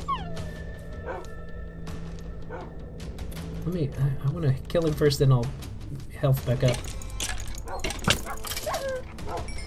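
A dog in a survival video game whimpers and yips in short, pitched bursts amid game effects and a steady hum, while a person talks over it.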